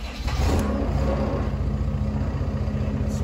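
An FPT NEF 400 diesel marine engine cranks and catches within a moment, then settles into a steady, loud, low idle that rumbles on evenly.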